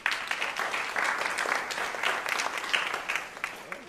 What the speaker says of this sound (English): Please give a round of applause for Mr.